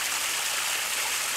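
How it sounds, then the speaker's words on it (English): Water pours steadily over a garden waterfall feature at a Nelson, BC plant nursery, a continuous close, bright splashing rush with no voices. "One of our waterfall features."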